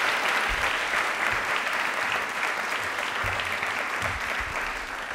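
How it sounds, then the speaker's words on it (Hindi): An audience at Government College Sanganer claps loudly for the principal being welcomed to the stage, a sustained, even burst of many hands lasting several seconds with no talk. "तालियां प्लीज एक बार मैम के लिए जोरदार हो जाए।"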